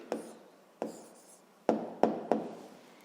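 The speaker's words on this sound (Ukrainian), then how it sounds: "Записуємо відповідь." Pen writing down an answer on paper during a sixth-grade maths exercise, five sharp taps and short scratchy strokes in an irregular rhythm, close and quiet with no talking.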